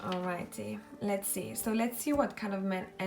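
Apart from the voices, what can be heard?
No everyday noises stand out.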